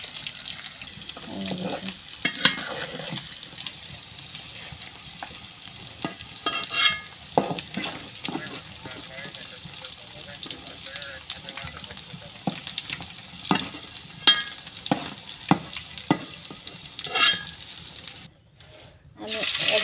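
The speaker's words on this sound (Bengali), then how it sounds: "সেই একই তেলের ভিতর ডিমগুলো ভেজে নেব দিয়ে দেবো সামান্য হলুদ" Eggs with a pinch of turmeric sizzle and fry in hot oil in a pan, with intermittent scraping and stirring strokes and some splashing water, close and moderately loud, ending in a brief drop to near silence.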